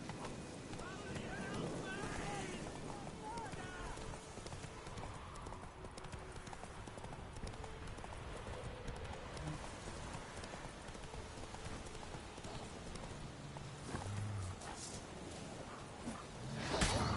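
Horse hooves pound in a steady galloping clip-clop within a PS4 video game, moderately loud under wind-like rushing and game ambience, with a voice speaking briefly.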